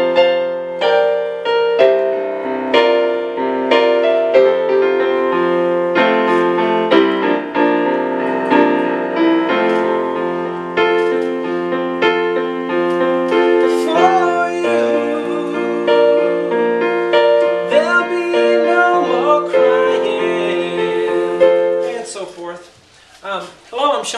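Piano playing a song, with clear sustained notes and chords moving through a slow melodic passage for over twenty seconds before fading out.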